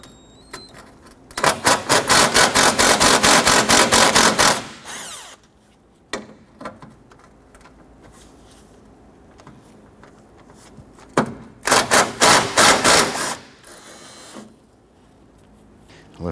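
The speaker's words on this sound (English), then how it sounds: "we're going to go ahead and loosen and remove these two 10mm bolts" A power ratchet or impact tool loosening 10mm bolts on a 2006-2014 Honda Ridgeline radiator bracket: two loud, rapid buzzing bursts separated by quieter workshop sounds and a few clicks.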